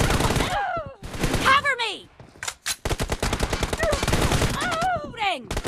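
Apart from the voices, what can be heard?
M416 rifle gunfire in the video game PUBG Mobile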